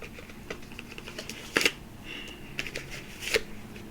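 An oracle deck of cards is shuffled by hand in a few quick riffling bursts with soft papery slaps between them, close and fairly quiet.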